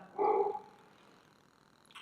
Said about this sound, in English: my stupid dogs are barking